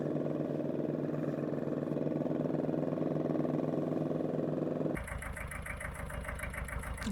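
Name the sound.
compact tractor engine running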